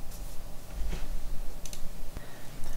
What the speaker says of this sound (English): we need to type in nmake makefiles